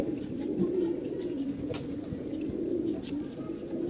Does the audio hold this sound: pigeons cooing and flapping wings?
yes